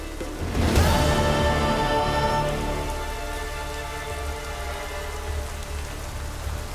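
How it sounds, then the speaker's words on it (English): Heavy rain pours steadily in the video game The Witcher 3: Wild Hunt, a dense broadband hiss that swells in the first seconds and then holds on without letting up. "Raining fucking buckets."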